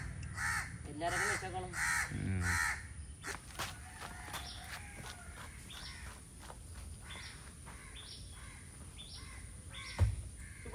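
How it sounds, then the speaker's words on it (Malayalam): A crow caws several times in quick succession, loud and close, followed by scattered shuffling sounds and a voice speaking. "ആ കാക്ക രാവിലെ വന്നിരുന്ന് എന്തോ കാര്യമായിട്ട് പറയുന്നുണ്ട് കേട്ടോ"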